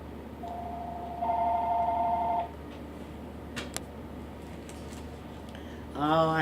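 A telephone sounds for incoming calls with steady electronic tones over background hiss, followed by a few sharp clicks and a brief voice at the end.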